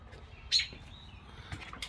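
Baby robins chirp faintly while an angry mother robin gives a sharp, loud call partway through, followed by a few more brief calls near the end, all over a low background rumble.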